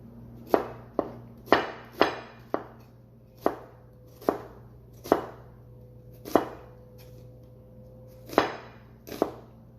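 A knife chops an onion on a cutting board for pho, about a dozen sharp, close knocks in an uneven rhythm over a quiet background, with no talking.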